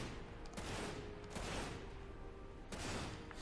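Gunshots from the video game Dirge of Cerberus, a few broad bursts spaced about a second apart over constant dense game noise, moderately loud with no talk.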